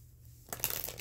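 Brief papery riffling of cards being shuffled, starting after a short quiet moment and running in quick crisp bursts.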